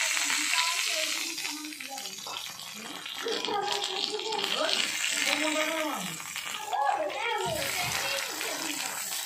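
Hilsa fish paturi wrapped in bottle gourd leaves sizzles and crackles steadily in a pan with a lid just lifted, while a voice speaks over the continuous frying hiss.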